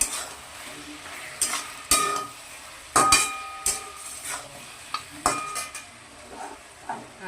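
Mutton being stirred with a paste of garlic, ginger, onion and green chilli in a pan, a spoon or spatula scraping and clanking against the metal in irregular strokes over a soft background sizzle, with no talking.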